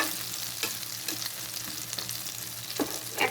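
An aloo paratha sizzles in a pan as it is flipped, a soft continuous fry with a few sharper spatula scrapes and a louder flare of sizzle near the end.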